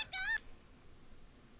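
A single short cat meow from the video game Corpse Party, clear and high-pitched, followed by near silence.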